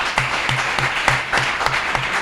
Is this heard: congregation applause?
yes